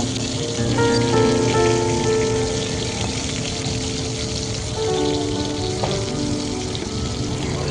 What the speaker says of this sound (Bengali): আমি একে একে চিংড়ি মাছগুলো ভেজে নেব